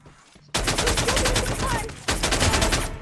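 Rapid automatic gunfire in the Free Fire video game comes in two close, loud bursts separated by a brief pause.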